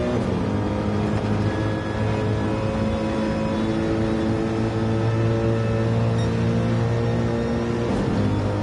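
A GTE racing car engine in a video game drones steadily at high revs, a loud sustained whine with layered harmonics, no voices present.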